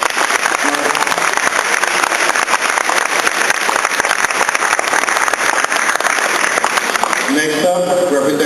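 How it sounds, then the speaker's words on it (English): A school audience applauds at a speech competition, sustained even clapping at steady loudness for several seconds before it thins out and a voice begins at the end. "Another round of applause."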